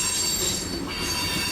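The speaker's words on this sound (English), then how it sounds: "603 is a classic general freight train." Loud, steady metallic wheel squeal and rumble from a passing general freight train hauling open-top hoppers, close by and unbroken, with no voices.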